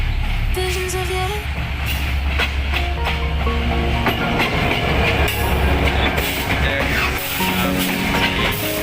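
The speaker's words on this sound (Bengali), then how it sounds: "বর্তমানে ট্রেনটি একটি একটি করে বগি যেতে যেতে দেখুন আর মাত্র কয়টি বগি আছে।" Coaches of an intercity passenger train rolling past on a railway line, a loud, steady rumble with rhythmic clickety-clack of wheels over rail joints and brief metallic squeals, close by throughout.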